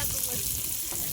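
Mustard seeds and onion fry in a pan in a village kitchen, a loud, dense sizzle and crackle filling the brief moment without talking.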